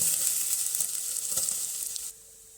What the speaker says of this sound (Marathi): हे ओलं खोबरं आपण तुपावर चांगलं भाजून घेऊ